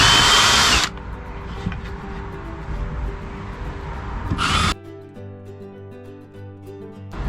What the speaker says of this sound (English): I've just grabbed myself a smaller drill bit and we're going to go through in the marks that I just made